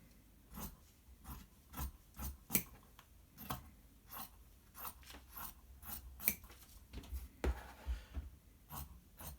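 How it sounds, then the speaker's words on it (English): Scissors snipping through two layers of T-shirt fabric, a series of quiet, close, crisp cuts coming in an uneven rhythm of short bursts. "I'm going to take my scissors and I'm going to cut out this. I'm cutting both layers at the same time."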